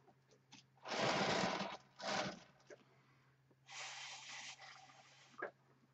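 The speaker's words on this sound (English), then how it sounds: "maybe I will blow on it" Breath blown onto an acrylic piece that has silicone on it: a close, airy whoosh, a short puff right after, then a second, longer and softer blow, all with no talking.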